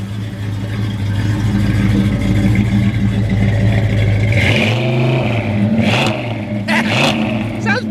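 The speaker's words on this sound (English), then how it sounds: "Nice running little motor." The 260 V8 in a 1963 Ford Fairlane 500 runs with a deep, steady idle and a few throttle blips. Someone speaks over it near the end.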